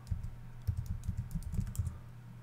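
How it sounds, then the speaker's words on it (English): Typing a URL on a computer keyboard, with soft, close keystrokes clattering in quick irregular bursts at a low level, no voices. "I'm just going to type in a URL for"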